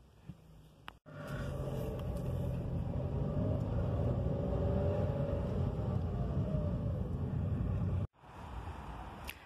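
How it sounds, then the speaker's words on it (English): A car driving on a road, its engine rumbling steadily from inside the cabin for about seven seconds, with quieter stretches before and after, and no talking. "I'm gonna drive there."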